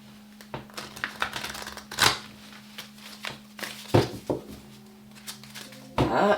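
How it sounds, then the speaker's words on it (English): A deck of tarot cards being shuffled by hand, close up, in irregular bursts of riffling and soft slaps with brief quiet gaps between them. "All right, one more shuffle."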